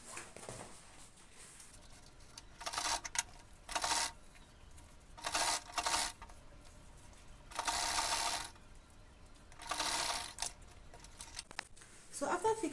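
A sewing machine top stitching a folded edge on an Ankara fabric tote bag runs in short whirring bursts of about a second each, separated by quiet pauses, fairly faint and close.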